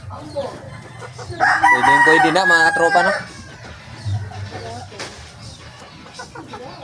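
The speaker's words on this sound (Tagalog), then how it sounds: "Ito po yung manok ko mga katropa." A fighting rooster, bought for 800, lets out one loud, drawn-out crow up close, lasting under two seconds. Someone talks before and after the crow, with a brief cluck-like sound later.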